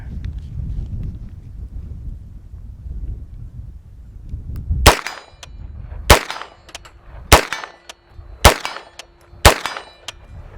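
B&T GHM9 Compact gunshots at a steel target 41 yards out on an outdoor range: five sharp, loud reports spaced about a second apart, following a few seconds of wind noise.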